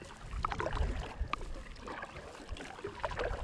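A kayak is paddled across a quiet lake, soft splashes and drips of the paddle blades dipping in rhythm, close up over a faint watery background.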